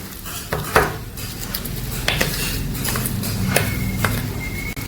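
Wood apple pulp is mixed by hand with chaat masala and sugar in a bowl, giving soft squelching and occasional clinks of dishes and utensils, close and moderately quiet.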